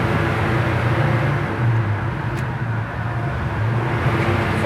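A 1963 Ford Galaxie 500 cruises down the road with a steady low engine drone and road noise, the tone shifting slightly as it changes gears, heard from inside the car.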